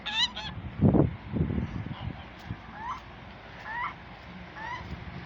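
Domestic geese on a farm honk in a quick series of loud, nasal calls close by, with a couple of heavier flapping or splashing bursts early on and quieter honks repeating afterward.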